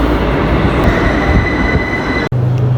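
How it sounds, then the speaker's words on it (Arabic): Metro train in Algiers rumbling loudly and steadily, with a sustained high wheel squeal over the roar, then a sudden brief dropout before a lower hum continues. "هيا بنا الى المترو"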